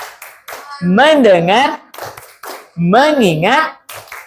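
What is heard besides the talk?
rhythmic concentration clapping by class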